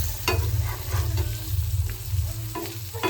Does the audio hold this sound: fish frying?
yes